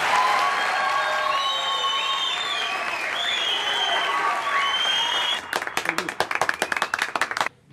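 Studio audience applauding to welcome the final contestants of the night, a full sustained roar of clapping mixed with cheering and whistles, then breaking into scattered individual claps before stopping abruptly.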